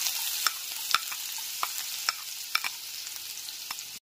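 Chopped garlic hits two tablespoons of hot white oil in a kadai, giving a constant crackling sizzle punctuated by light, evenly spaced stirring taps.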